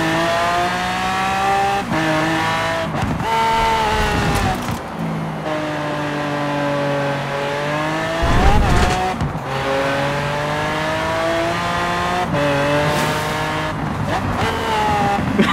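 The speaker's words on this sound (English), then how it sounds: "The noises of the car are so funny." Continuous loud video-game engine whine from a 1,500 hp Chevrolet Corvette ZR1 in Forza Horizon 4, pitch sweeping up and down as gears shift, plus occasional tire squeals, steady throughout.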